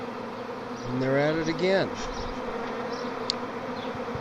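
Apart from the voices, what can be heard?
swarm of neighbor's honeybees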